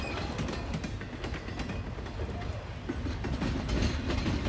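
CP 118 freight train with a mid DPU approaching on the MacTier Subdivision, a low continuous rumble with scattered clicks and rattles that slowly builds, heard from trackside with a few faint birds.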